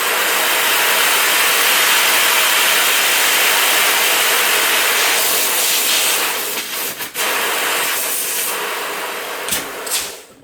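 Compressed air hisses loudly and steadily from leaks in the header of a homemade waste-oil heat exchanger, a broad constant roar with a few brief dips and surges near the end.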